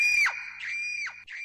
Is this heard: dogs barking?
no